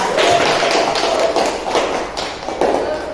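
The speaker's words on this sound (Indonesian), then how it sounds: "kita beri aplaus untuk Narda." A group claps together in a coaching session, a dense and steady patter of many hands that stays loud and close for about three seconds, swelling and dipping slightly without pause.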